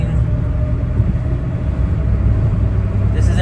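Steady low engine drone from a Daihatsu Mira Gino cruising in 4th gear, a continuous rumbling hum heard from inside the car with no break in level.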